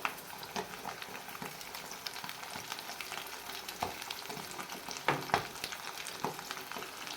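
A potato and egg omelette seasoned with black pepper and salt cooks in a pan with a quiet, steady sizzle, dotted with small pops and crackles, heard alone and close.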